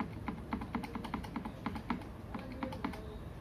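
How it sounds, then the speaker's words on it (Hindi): Computer keyboard keys are struck repeatedly in a quick, fairly even rhythm of sharp clicks, including the F9 key being pressed while a PC starts up to choose a boot device, close and moderately quiet, with no talking. "हमें F9 कीज को प्रेस करना है कीबोर्ड से"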